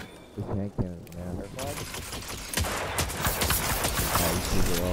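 Repeated heavy hand cannon shots in Destiny 2 competitive play ring out in quick succession over game sounds, while someone talks over the gunfire.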